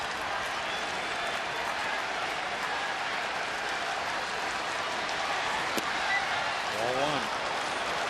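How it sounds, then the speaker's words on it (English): A baseball stadium crowd at a Yankees–Astros game cheers in a sustained, distant roar, with a broadcast voice talking over it throughout. "Just a cheer went up."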